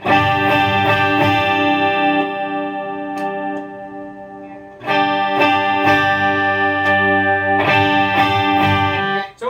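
A twelve-string electric guitar, the twelve-string neck of a Firefly double-neck, rings out in three bright, shimmering strummed chords, each left to sustain and slowly decay.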